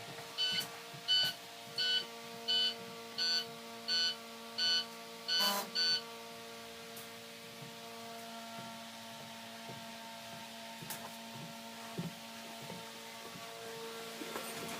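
A series of about eight evenly spaced electronic beeps from a bus alarm system, then it stops, leaving a low engine hum and a few faint clicks.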